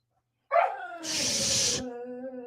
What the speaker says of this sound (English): Don't squeal like you're dying next to me. I hear you. You're such a vocal dog.